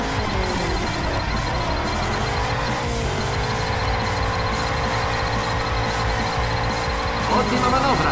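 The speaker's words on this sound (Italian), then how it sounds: "Ottima manovra, derapata stretta dell'auto 2." A car drifts in the video game Juiced 2 with long, steady tire squeal over a continuous engine roar. An announcer commentates throughout.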